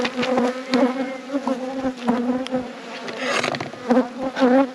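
Many honey bees buzz close by around a hive, a dense droning hum that rises and falls as individual insects pass near, with no voices present.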